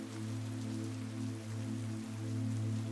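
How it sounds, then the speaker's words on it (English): Soft rain falls in a steady, gentle patter, quiet and even, over a low sustained humming tone. "the rain is nice and soft, just the way Sally likes it"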